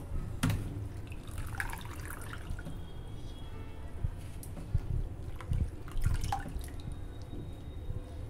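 Tap water trickles and drips faintly into a sink while squid is rinsed, with soft splashes and clinks of handling the wet squid, quiet and intermittent throughout.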